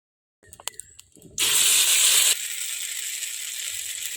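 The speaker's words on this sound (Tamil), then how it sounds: "கடுகு போடுறேன் பாருங்க. பாருங்க கடுகு" Mustard seeds dropped into hot oil for a herbal rasam, giving a few sharp clicks and then a sudden loud, steady hissing sizzle that settles into a quieter continuous crackle.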